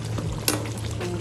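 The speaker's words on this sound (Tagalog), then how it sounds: "Konting saute lang po sa mga Ito, So half cook na po yung Ako chicken." Half-cooked chicken sautés in a pan for biryani, giving a steady soft sizzle with occasional stirring scrapes, close and fairly quiet, without speech.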